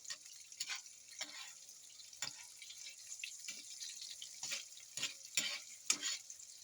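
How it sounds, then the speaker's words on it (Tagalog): Quiet crackling sizzle of sweet potato leaves frying, with irregular little pops and bursts as the leafy greens spatter in hot oil. "Prito yung talbos ng kamote"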